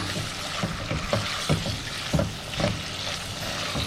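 Mutton frying in a pan with green chillies for Eid mutton zafrani pulao, a steady sizzle broken by irregular scraping stirs and spoon knocks, close and moderately loud.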